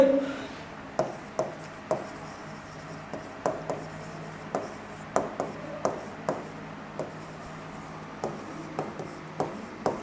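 Steady tapping and scratching strokes of writing on a board in a lecture room, a rhythmic series of light knocks close up with no talking.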